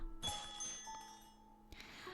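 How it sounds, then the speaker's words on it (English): An antique shop's door bell rings in a video game, a bright, clear chime with sustained ringing tones that fade, then a second softer strike, all fairly faint with no talking. "The bell chimes and a customer comes inside."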